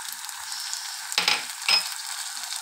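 Omelette sizzling steadily in a frying pan, with two sharper bursts of hissing as tomato is dropped in; close and continuous, no talk.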